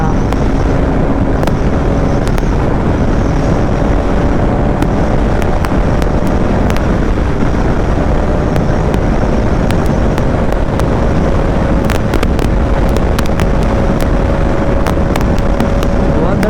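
Bajaj Pulsar NS200 motorcycle ridden at full power on an Indian road, a continuous loud engine roar with climbing whine, heavy wind buffeting and crackles throughout.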